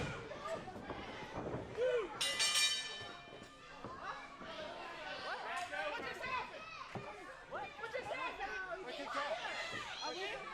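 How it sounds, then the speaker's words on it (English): A metal ring bell at a professional wrestling show clangs briefly near the start, its harmonic ringing standing out over a noisy, chattering live crowd that continues loudly throughout. "Hits Devantes with the ring bell."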